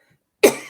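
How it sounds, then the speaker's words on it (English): A harsh, close cough bursts out suddenly after a moment of silence, followed by a shorter second cough, loud and alone with no talking. "I seem to be about to cough my heart out"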